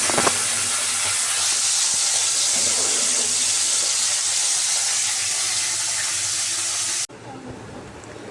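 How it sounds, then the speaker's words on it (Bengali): Fish frying in a pan for breakfast, a loud steady sizzling hiss filling the scene for several seconds before cutting off abruptly into a quieter background. "তো সকালবেলা আমি মাছ ভেজে নিচ্ছি।"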